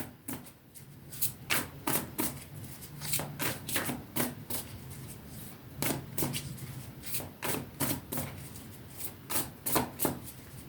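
Tarot cards are shuffled by hand in repeated quick riffles and taps, a crisp papery rhythm running steadily and close up without pause.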